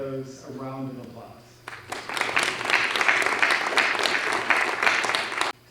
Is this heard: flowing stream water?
no